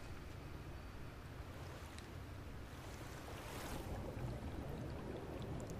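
Underwater swimming in the Final Fantasy XIV Shadowbringers game, heard as a steady, close wash of muffled water and rushing noise that swells slightly toward the end, with no talking.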